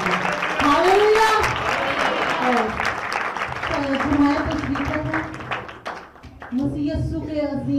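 Applause from a church congregation at an Urdu-language women's Sunday sermon, a steady wash of clapping under a preacher's ongoing speech and hallelujahs, fairly loud throughout.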